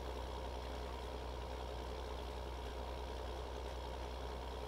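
A small tractor in Farming Simulator 19, its engine droning in a steady, even idle from start to finish, with no voices over it.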